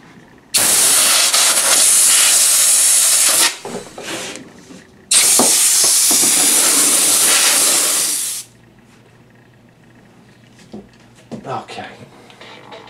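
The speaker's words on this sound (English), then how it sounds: "you could just blow them out with the compressor" An air compressor blasts video game cartridges clean with two long, loud hissing bursts of air separated by a short pause, then a quiet stretch with a few small knocks.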